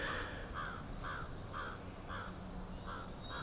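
Crows caw about six times in an even, steady rhythm at Star of the West Campground in Arkansas. The calls are moderately distant and stand clear over a low outdoor background, with no voices.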